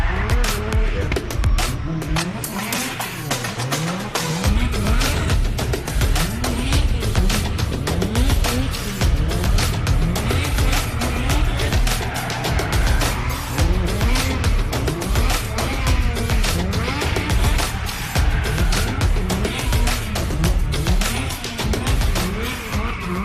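A drift car screams through the end of its lap at a DriftWars event at Manfeild, the engine roaring loud and continuous with tire squeal and skidding over heavy crowd-like rumble throughout.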